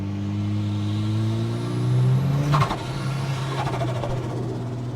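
A turbocharged Toyota Hilux engine with its wastegate stuck shut drones and climbs in pitch under hard acceleration, then drops abruptly and gives a fluttering whoosh as the throttle lifts, loud and close inside the cab.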